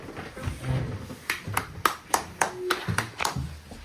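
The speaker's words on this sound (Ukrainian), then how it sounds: "Аплодисменти, дякую." A small group applauds in a Ukrainian district courtroom after a verdict is announced, a short run of distinct, separate handclaps, close and fairly quiet, fading out within a few seconds.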